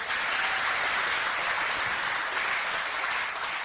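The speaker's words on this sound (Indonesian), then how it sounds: "tepuk tangan sekali buat Michael" An audience claps steadily for a man named Michael at a motivational seminar, a dense, continuous wash of applause at full level throughout with no talk over it.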